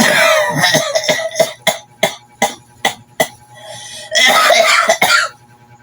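A person coughs repeatedly, a run of sharp separate coughs between stretches of rougher, harsher coughing, close to the microphone.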